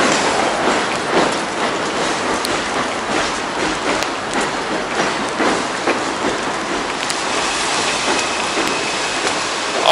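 Heavy rain pours onto a New York street as a dense, steady hiss that stays loud and even throughout, with no voices.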